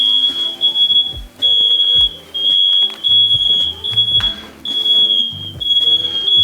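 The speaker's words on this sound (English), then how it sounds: "Set off the fire alarm." A smoke alarm goes off in a home kitchen while steak au poivre cooks, giving a loud, shrill, sustained beep that cuts out briefly several times, with kitchen sounds underneath.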